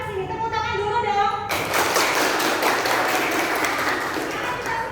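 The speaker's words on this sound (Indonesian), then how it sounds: "Kalian pada kasih tepuk tangan dulu dong" A classroom of children claps together after a brief stretch of speech, the dense, steady applause filling the room close by for several seconds.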